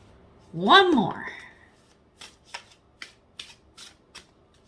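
Tarot cards being shuffled, a run of six or seven crisp riffling bursts at a steady rhythm, close by, following a brief voice.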